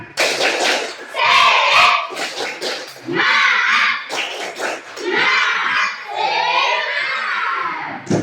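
Sixth-grade primary school class at SD Koja loudly chanting and clapping the 'tepuk semangat' rhythm in unison, in bursts of rhythmic claps and shouted syllables from many children close by.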